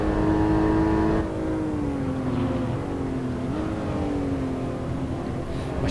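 A Porsche 987 Boxster engine in a racing video game at the Hermanos Rodriguez circuit, driven with a manual shifter: steady high droning tone that drops after a shift, then varies in pitch as the car accelerates, with no talking.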